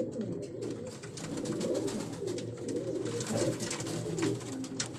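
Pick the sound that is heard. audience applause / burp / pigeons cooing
pigeons cooing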